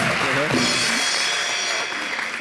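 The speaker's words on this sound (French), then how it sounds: "Applaudissons encore." Audience applause in a TV studio, a dense sustained roar of clapping with a voice speaking over it at the start before the clapping carries on alone.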